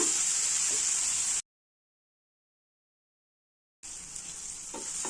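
Two small tomatoes fry in a pan for onion rice, giving a steady loud sizzle that cuts out to silence midway before resuming.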